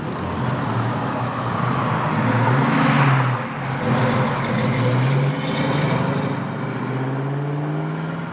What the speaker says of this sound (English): And out goes the old silver Mustang